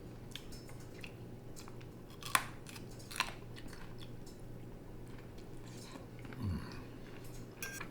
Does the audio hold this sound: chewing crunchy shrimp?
yes